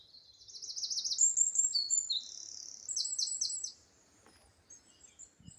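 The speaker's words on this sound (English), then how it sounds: "the birds are singing" Songbirds sing beside a trail near Loch Lomond, bright high trilling and chirping phrases in two clear bursts at moderate distance, followed by quiet outdoor ambience.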